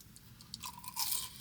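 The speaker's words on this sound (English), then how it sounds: "Next up in the slam dunk of the year is the tempura green bean fries." Crunchy bites into tempura-battered green bean fries from Habit Burger, a few close crisp crunches and chewing sounds that grow louder toward the end, with no talking.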